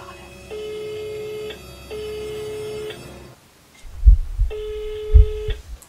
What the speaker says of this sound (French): Quatrième sonnerie, il répond pas